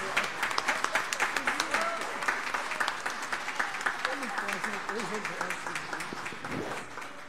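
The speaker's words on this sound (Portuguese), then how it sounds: "peço uma salva de palmas" Audience applause at an awards ceremony for a poetry festival, many hands clapping in a steady, rhythmic patter while voices murmur and talk underneath throughout.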